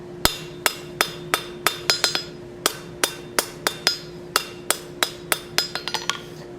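A blacksmith hammers hot steel to draw down a tenon for a plant hanger, giving sharp ringing strikes at a steady, fairly brisk pace, about twenty blows, close and clear with a faint metallic ring between hits.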